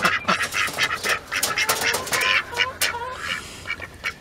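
Several ducks quack loudly and repeatedly close by, a busy overlapping chorus of nasal calls.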